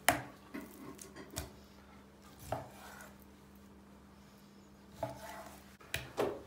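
A knife strikes a cutting board in a few sharp, sparse chops through chicken, separated by pauses, close and fairly quiet against a faint hum.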